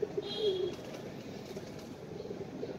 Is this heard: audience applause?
no